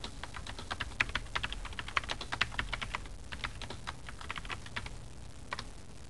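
Rapid clicking of computer keyboard keys as a worksheet title is typed into a spreadsheet, steady close-up keystrokes at an even pace, with no talking.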